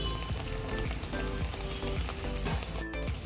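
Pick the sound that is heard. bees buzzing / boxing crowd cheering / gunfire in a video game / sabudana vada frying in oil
sabudana vada frying in oil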